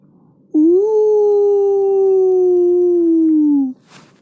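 A single human voice imitates a distant wolf howl with one long, sustained, gently falling wail lasting about three seconds. It is loud and clear against near silence.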